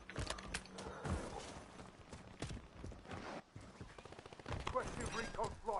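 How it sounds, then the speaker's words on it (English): Gunfire from the Warzone 3 video game crackles in scattered bursts and rapid volleys across the clip, with quick clattering transients, mixed with game sounds and occasional voices. "Where are those shots coming from?"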